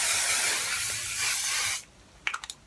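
Hairspray hisses from an aerosol nozzle in one long, loud, steady burst of nearly two seconds, then cuts off, followed by a few brief soft clicks and rustles.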